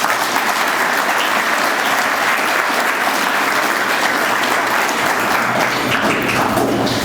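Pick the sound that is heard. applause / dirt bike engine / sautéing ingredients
applause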